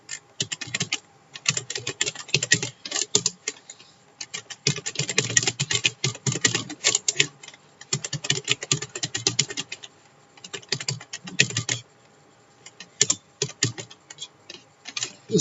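Steady, close typing on a computer keyboard while writing text into a WordPress page, the keystrokes coming in quick bursts separated by short pauses.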